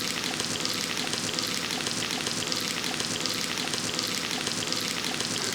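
Sliced onions and curry leaves fry in hot oil for an egg street-food dish, giving a dense, even, crackling sizzle heard up close and alone, with no talk.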